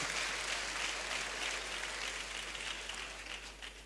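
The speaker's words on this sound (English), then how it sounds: "Please let this round of applause reach him wherever he is today." Round of applause from a seated crowd at a university convocation ceremony, a steady dense wash of clapping that holds through and gently fades toward the end.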